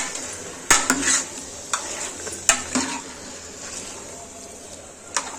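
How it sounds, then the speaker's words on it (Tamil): Chicken gets stirred into masala in a pan, with a spoon scraping and knocking against the metal in a few sharp clacks over a soft sizzle, close up. "சிக்கன் போட்டு இந்த மசாலையில் நம்ம நல்லா மிக்ஸ் பண்ணிக்கலாம்."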